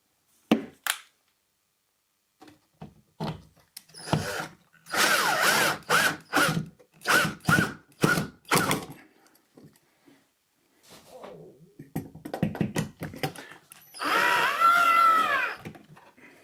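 A power drill drives screws to fasten a 3D printed wall mount for an LED shop light, sounding in several short whirring bursts separated by silences, with a longer burst near the end.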